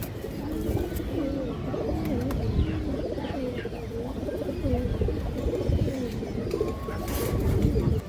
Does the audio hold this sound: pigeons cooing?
yes